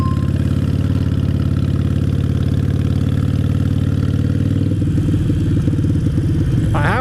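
Harley-Davidson Sportster motorcycle engine running with a steady, loud, lumpy throb and mechanical clatter, its note shifting near the end as it changes pace.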